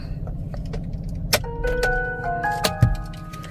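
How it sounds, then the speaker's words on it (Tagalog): Keys to a blue Hyundai SUV jangle in a few quick metallic bursts, with bright ringing clinks near the middle and end against a low background hum. "ito yung susi niya guys"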